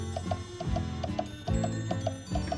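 Several clocks in a cartoon kitchen tick in a steady, quick rhythm, with regular soft clicks running under gentle background music, 1990 children's animation.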